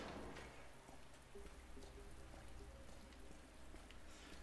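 Steady rain falls in the Resident Evil 2 Remake video game, a dense, even hiss of drops on surfaces that continues throughout with no voices.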